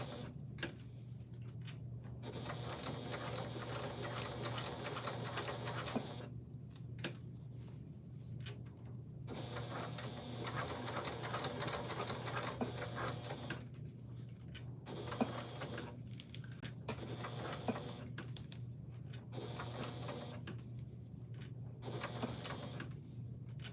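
A sewing machine stitches a pack in long mechanical runs of rapid needle chatter, close and steady, each run stopping for a few seconds before starting again, over a constant low motor hum.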